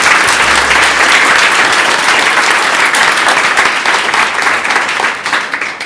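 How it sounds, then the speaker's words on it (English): Audience at a symposium on engaging men who use violence breaks into sustained loud applause, a dense wash of clapping that holds steady for several seconds before tapering slightly at the end. "So can we just give both Chris and Regina a round of applause?"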